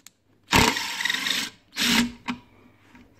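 A cordless impact driver whirs in two bursts, the first long and steady, the second shorter, followed by a brief rattling tap as its impact hammering engages, close and fairly loud.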